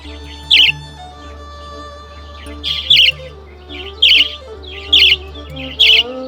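Budgies chirping in a large aviary: five or six sharp, bright chirps spaced about a second apart, close and clear over a low steady background hum.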